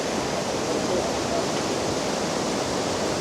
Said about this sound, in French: Et voilà la cascade.